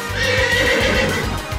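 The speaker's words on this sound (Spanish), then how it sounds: "Vino el caballo medieval sin animaciones." A medieval horse in a video game gives a loud, close whinny lasting over a second, with rhythmic clip-clop hooves under it.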